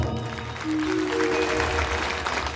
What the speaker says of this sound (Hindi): ताली बजा दीजिए जोरदार।